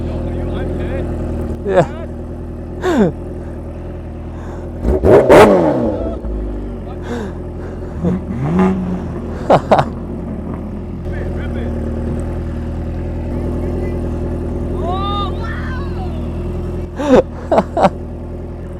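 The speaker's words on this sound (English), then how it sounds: "Gotta capture those cold starts." A Kawasaki Ninja H2R motorcycle engine cold-starts and idles, loud and close, with a steady low drone. Several sharp rev bursts rise above it. A person briefly speaks once.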